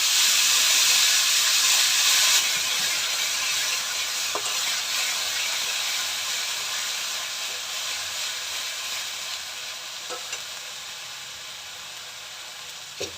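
Cumin, garlic, onion, ginger and ripe green chili paste sizzle in a hot pan for a prawn malai curry, a steady close hiss that starts loud and eases slightly over time, with no talking.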